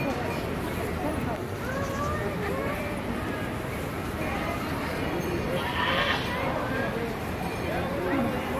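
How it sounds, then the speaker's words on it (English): Baby goat in a Halloween costume parade, with a few short, thin bleats rising faintly through steady outdoor noise and people talking nearby. "That's a baby goat."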